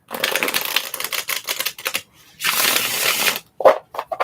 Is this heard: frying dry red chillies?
no